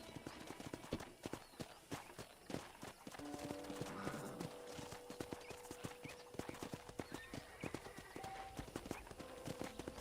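Hooves of a horse clip-clop steadily in the Red Dead Redemption video game, a continuous walking rhythm with a horse's whinny and faint game ambience, no speech over it.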